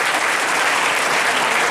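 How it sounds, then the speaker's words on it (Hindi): A congregation at a Christian worship gathering bursts into loud, dense, steady applause in thanks to God, continuous clapping with no talking. "तो जोरदार ताली धन्यवाद के लिए परमेश्वर का।"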